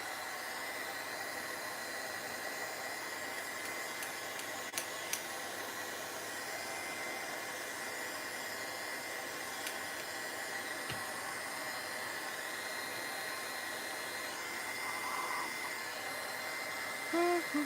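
A steady, continuous blowing whir from a dryer aimed at wet paint on a steampunk egg craft, moderately loud and unchanging for the whole stretch, with no talking.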